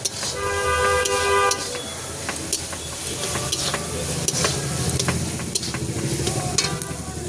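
Vegetables, including onion and raw tomato, sauté in a pan for a home-style country egg dish, giving a steady sizzle and frying hiss with occasional stirring scrapes, loud and continuous throughout.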